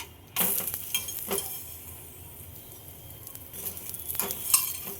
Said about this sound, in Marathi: आता आपण मस्त तेलावर भाजून घेऊया।